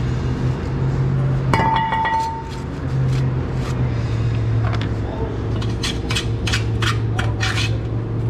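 Crusty deposits scraped off brake parts with a metal tool: a steady rasping, scratching sound close by, with a brief clink near the start and repeated short scrapes building toward the end.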